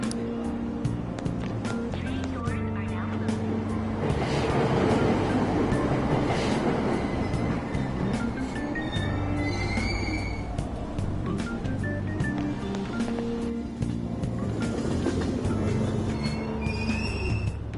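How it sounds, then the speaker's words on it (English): A subway train pulls out of a station in the video game Persona 5 Royal, with a steady rumble of wheels and rails, rising motor tones and brief squeals. "Train doors are now closing. Please stand back."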